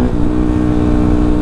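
Motorcycle engine fitted with a standard piston and a BRT S3 camshaft, revving close by with a steady, loud, throaty drone that holds level throughout.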